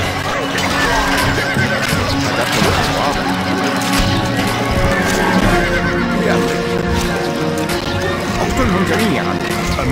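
A horse whinnies amid busy sounds from the game Stronghold Crusader, with hooves clip-clopping and a dense, loud backdrop of effects and voices.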